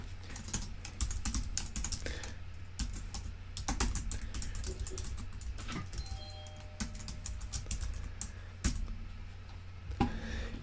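Rapid, close typing on a computer keyboard, a continuous clatter of keystrokes with occasional sharper key hits, heard alone.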